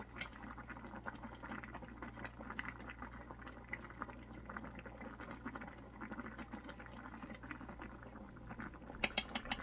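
Water bubbling at a steady, consistent rolling boil inside a small electric hot pot cooker, a continuous close bubbling and popping with a low hum underneath and no voices.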